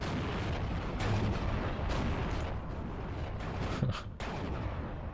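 Artillery in the video game Steel Division 2 fires in a continuous heavy barrage of booms and rumbling blasts, loud and dense throughout, with a sharper burst near the end.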